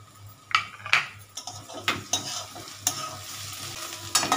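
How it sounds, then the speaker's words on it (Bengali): Grated coconut frying and being stirred in a pan while making ghugni, with a quiet sizzle under several sharp scrapes and clinks of a utensil against the pan. "নারকেলটা ভাজা হোক"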